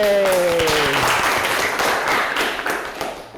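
A school class claps together in the 'tepuk semangat' chant, a burst of group clapping in uneven rhythm after a brief voice at the start, fading toward the end.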